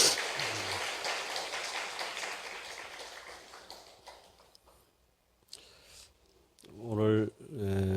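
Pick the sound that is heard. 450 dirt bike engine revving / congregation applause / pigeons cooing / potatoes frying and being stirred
congregation applause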